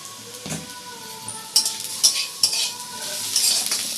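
Marinated chicken pieces hit hot oil in a pan over high gas, sizzling steadily, with sharp clatters and scrapes of a spoon stirring at intervals.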